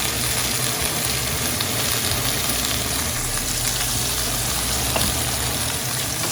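Sautéed vegetables fried in a pan beside a T-bone steak, a loud continuous sizzle and crackle with light stirring, no voices.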